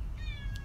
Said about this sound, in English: I hear a meowing.